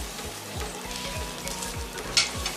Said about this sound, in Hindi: सारे स्पाइसेस ऐड कर देंगे। अच्छे से मिक्स करेंगे इसे